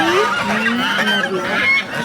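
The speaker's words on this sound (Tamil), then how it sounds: "அங்க இருக்கு வாத்து" Farm waterfowl honk and cackle continuously up close, a busy, overlapping chorus of nasal calls lasting a couple of seconds.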